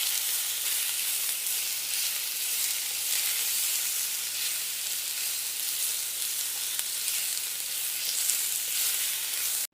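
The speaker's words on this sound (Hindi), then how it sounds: "इसको थोड़ा सा फ्राई होने देंगे, इसका कलर चेंज हो जाए इतना आपने फ्राई कर लेना है।" Bone-in chicken pieces fry in a pan for chicken egg soup, producing an unbroken, even hiss of sizzling oil throughout, close and steady with no talking.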